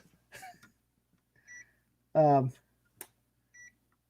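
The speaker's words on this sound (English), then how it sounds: "It's beeping because I keep touching things." Brief electronic beeps sound several times, spaced irregularly, with quiet talking and a cough-like noise in between.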